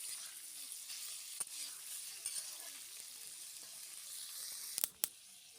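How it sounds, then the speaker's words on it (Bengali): Cauliflower florets fry in hot oil, a soft steady sizzle throughout, with a few sharp clicks of utensils near the end; quiet and close. "তো ফুলকপিগুলো ভাজতে যাচ্ছে"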